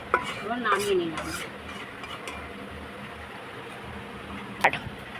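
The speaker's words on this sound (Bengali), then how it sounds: "ছাতুটা আমি গুলে নিলাম। এবার কড়াইতে নেড়ে নেব" A spoon scrapes and clinks against a metal wok while sattu is stirred. The scrapes come in a few sharp bursts early on, then settle into a quiet, steady background with one more clatter near the end.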